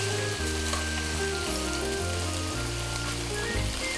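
Spicy pork bulgogi, marinated 48 hours, frying over medium heat with red and green jalapenos and onions, a steady close sizzle running under prominent background music.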